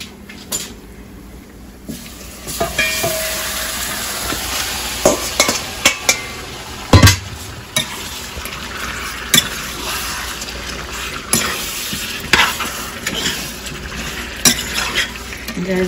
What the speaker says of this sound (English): So when you burn in the pot, you mix it up